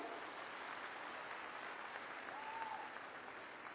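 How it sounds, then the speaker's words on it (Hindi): A crowd of women at a Delhi event applauds, very faint and distant. The clapping is an even, continuous wash with no voices on top. "अपने लिए जोरदार ताली बजाओ भाई।"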